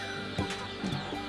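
Chickens cluck in a poultry farm shed in Kerala, a dense bed of overlapping bird calls with a few louder clucks rising near the listener, no talk.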